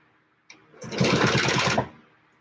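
A sewing machine quilting straight lines along a ruler runs in a single short, close burst of rapid, even stitching that starts and stops abruptly.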